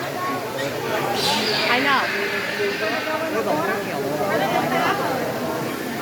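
Giant otters calling with squeaky, wavering high-pitched vocalizations that rise and fall repeatedly at close range, mixed with people chatting nearby and steady background hiss.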